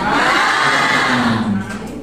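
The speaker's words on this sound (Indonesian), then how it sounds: "Silakan tepuk tangan" Audience clapping at a nursing lecture session, a dense, loud wash of many hands applauding together that fades slightly toward the end, with a faint voice near the close.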